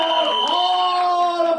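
An audience at the Rahu Ketu trailer launch in Mumbai cheers and whistles in one loud, brief burst, with sustained shrill tones over a dense crowd roar.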